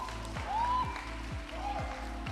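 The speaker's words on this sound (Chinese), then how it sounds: "掌声欢迎" An audience claps steadily through a press conference launching the cast of a TTV 60th-anniversary primetime drama. The applause is moderately loud, with a rise and fall, and music and voices run underneath it.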